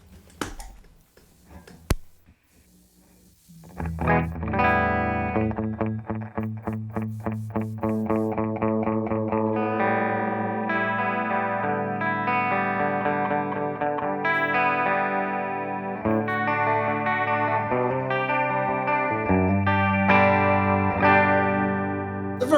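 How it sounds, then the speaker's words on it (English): An Ibanez Iceman electric guitar runs through a 1976 Roland DC-50 Digital Chorus in mono, starting at low intensity. Sustained strummed chords shimmer with a chorus effect after a quiet start, then continue with steady, close, fairly loud playing. "A very pleasant chorus sound for sure."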